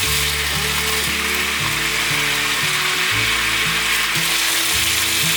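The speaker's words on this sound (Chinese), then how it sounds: "再继续翻炒。" Bok choy and water bamboo shoots stir-fry in a wok after a splash of water is added, giving a loud, continuous sizzling hiss beneath steady background music.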